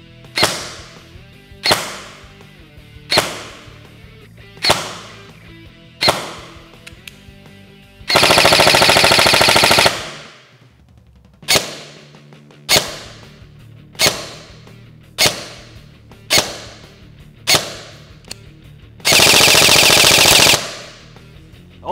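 A G&G airsoft replica with a G2 gearbox, powered by a 7.4 V LiPo battery, fires 0.2 g BBs during a chrono test: a series of sharp single shots at a steady pace, broken by two longer full-auto bursts, close and loud.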